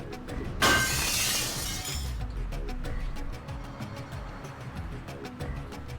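Glass shatters in the video game Deus Ex with the GMDX mod: a sharp, bright crash that sprays for about a second and a half, then fades into quiet game ambience with faint ticking.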